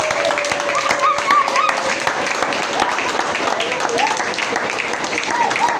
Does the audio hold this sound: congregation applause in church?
yes